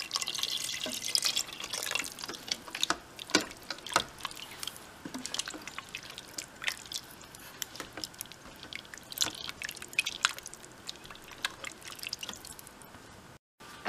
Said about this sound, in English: now we're adding 4 cups of the chicken stock. I'm going to pour that all in there and then mix that all around.